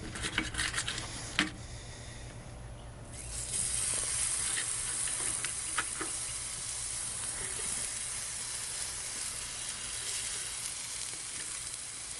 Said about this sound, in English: Now it's time to put on that beautiful venison backstrap steaks, and hey, let's do some eggs.